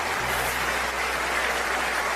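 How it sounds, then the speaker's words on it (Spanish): A church congregation breaks into applause, a sustained, even rush of many hands clapping over a low steady hum, heard at moderate level from a distance. "Alguien tiene que adorar más que eso con un aplauso."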